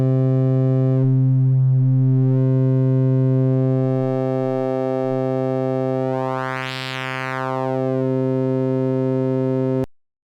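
A sustained buzzy phase distortion synthesizer tone with aliasing holds a steady pitch while its timbre sweeps, brightening and darkening in slow waves before cutting off abruptly.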